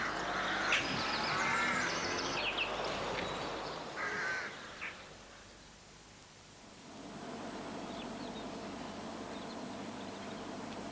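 A flock of rooks caws in the countryside with harsh, overlapping calls over a steady hiss. The calls thin out and fade partway through, then give way to a quieter, noisy background.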